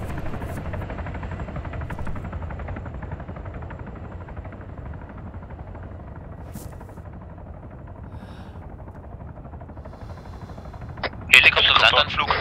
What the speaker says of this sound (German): Helikopter, Landanflug.